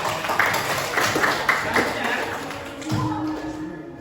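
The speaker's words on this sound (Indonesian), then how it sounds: "tepuk tangan untuk kita semua" A classroom group claps together in a short burst of applause, fairly close and dense, fading out after a few seconds.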